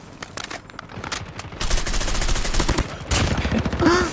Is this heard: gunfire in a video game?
yes